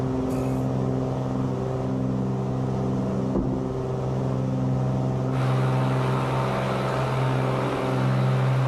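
Light aircraft climbing out after takeoff, its steady engine drone loud and constant with strong tonal hum, while the landing gear retracts; no distinct mechanical clunk stands out from the engine roar.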